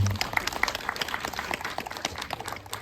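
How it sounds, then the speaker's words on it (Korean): At a film screening Q&A with the director, a small audience claps briefly. The applause is fairly quiet, with individual claps standing out. "박수 한번 부탁드립니다."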